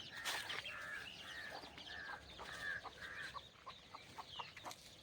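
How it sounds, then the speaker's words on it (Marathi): A frightened village hen clucks repeatedly in short, agitated bursts, fairly close, over a faint outdoor background. "तिला जर असं भीती वाटायला लागली तर ती कोटकोट करते"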